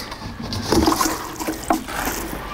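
Water is poured from a can or hose onto a blueberry plant in a garden, giving a short, close splashing gush with a couple of louder surges and no talking.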